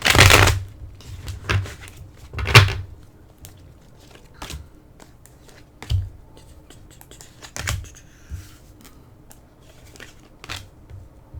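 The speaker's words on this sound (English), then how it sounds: "I shuffled the cards. I'll do once on camera, I guess." A deck of oracle cards is shuffled by hand in a quiet room, with bursts of riffling and soft card slaps spread irregularly across the span.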